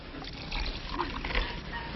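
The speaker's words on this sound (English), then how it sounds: "Then he poured in some water." Water pours steadily from a glass into a hat, a continuous liquid trickle and splash lasting a couple of seconds, close and moderately loud, with no voices.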